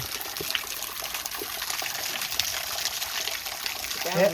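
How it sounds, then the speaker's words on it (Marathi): Spring water at Rohida Fort, flowing year-round, trickles and pours steadily close by as a continuous bright rush with no pauses. "कंटिन्यू पाणी इथं कंटिन्यू 12 महिने"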